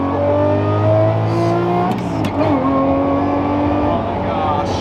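Custom-built 6x6 Jeep engine revving loudly up close, a sustained throaty drone with rising and falling pitch and a brief dip mid-way, with a person's voice faintly under the engine.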